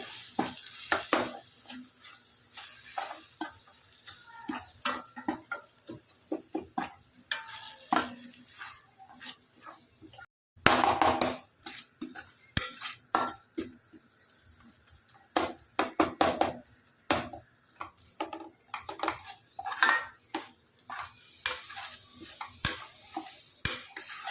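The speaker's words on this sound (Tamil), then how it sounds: "இது நல்லா மசாலா வந்து நல்லா தக்காளியோடு நல்லா மிக்ஸ் பண்ணிடலாங்க" Mutton masala with tomato and ground spices such as Kashmiri chilli, cumin and coriander powder being stirred in a pan for mutton varuval: repeated scraping strokes of a spoon against the pan over a steady low sizzle, close and continuous.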